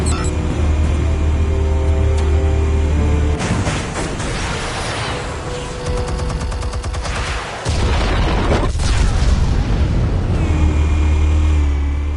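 Explosives detonating in the Batman Telltale game: loud, dense rumbling blasts and crashing debris fill the scene, with sustained low booms and layered impacts running throughout.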